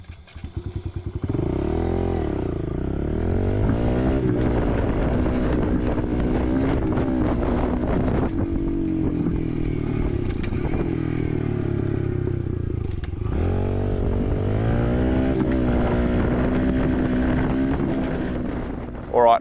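A pit bike engine heard while riding, close and loud, revving up and down through gears with wind buffeting the microphone and a brief drop in the middle before pulling again.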